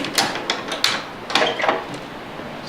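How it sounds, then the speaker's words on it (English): A door on a whale sound exhibit unit is opened, giving several sharp clicks and knocks of a latch and panel in quick succession, close and moderately loud, with no talking over it. "So you open this door"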